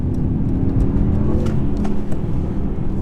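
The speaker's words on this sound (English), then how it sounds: "We've got the pan roof open, so you'll hear a bit more exhaust noise." Steady, loud low engine drone from a 2019 Mercedes E63S V8 while driving through a roundabout with the panoramic roof open, exhaust note rumbling continuously with slight rises and no talking.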